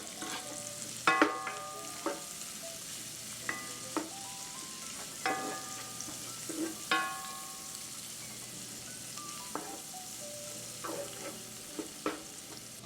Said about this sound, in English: I'm going to let these onions cook until they get a little bit translucent.